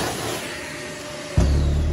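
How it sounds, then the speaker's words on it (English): A vacuum cleaner runs over a bare vinyl plank floor during installation, a steady broadband whir that jumps louder and deeper about two-thirds through as it engages close by. "We'll go ahead and vacuum that again here really quick."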